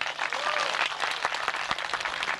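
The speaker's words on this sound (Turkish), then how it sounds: "Alkışlayalım efendim Ahmet Ayık." Applause from an audience at a village entertainment gathering, steady dense clapping that fills the whole moment at close range, with no talk over it.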